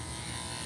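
Electric clippers buzz steadily, close and even, while shaving around the toes of a Shih Tzu's paw.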